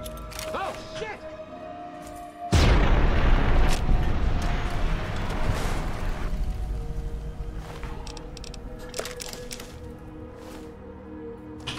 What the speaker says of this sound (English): I'm going to lob a grenade into your face